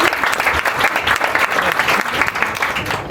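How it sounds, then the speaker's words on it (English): An audience at the Royal Armouries Museum in Leeds bursts into a loud, dense round of applause, with steady clapping throughout. "Should we give him a round of applause?"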